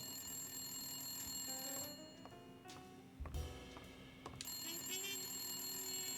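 A telephone rings in the detective video game Blacksad: Under the Skin, a repeated trilling ring heard clearly at the start and again near the end, with a quieter gap between and no talking.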